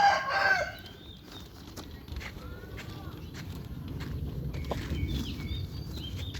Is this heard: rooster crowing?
yes